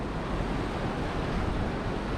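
Ocean waves at Kirra Beach make a steady broadband roar of surf mixed with wind buffeting the microphone, constant and fairly loud throughout.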